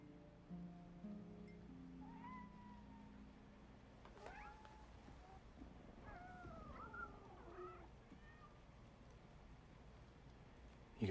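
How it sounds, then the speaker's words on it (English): Several cats meow at intervals inside an apartment, rising and falling cries of moderate loudness over a steady low room hum, with a brief rustle at the end. "You got a lot of cats."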